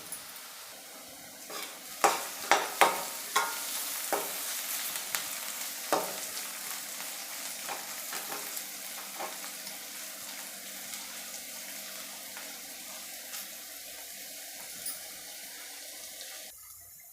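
Curry leaves and crushed garlic frying in a pan for bitter gourd curry, giving a faint hiss with a burst of sharp crackles and spoon taps near the start that thin out over time.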